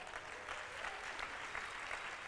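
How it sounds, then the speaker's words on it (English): Audience applause at a keynote talk on improv, a steady, dense wash of many hands clapping at a moderate, somewhat distant level with no voices. "Let's give her a round of applause."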